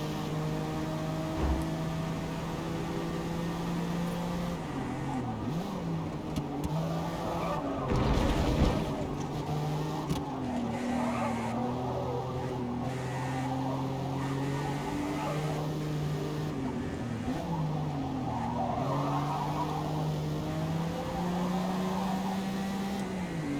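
Honda NSX in Forza Motorsport open class racing, engine droning and shifting pitch through gears while tires squeal and skid repeatedly over a continuous high-revving hum, with no talk.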